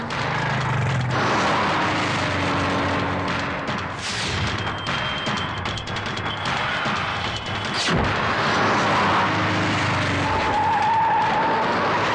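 Car pulling away in a Tamil film chase scene, with loud, dense road noise and a tyre skid, plus a sharp crash-like hit near the middle amid the steady engine roar.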